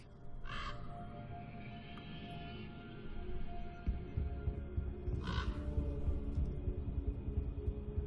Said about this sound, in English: A raven? I've seen that bird before.